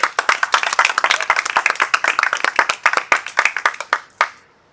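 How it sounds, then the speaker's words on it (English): Enthusiastic applause from a studio audience, dense rapid clapping that runs steadily, then thins to a few final claps and fades out. "Another round of applause"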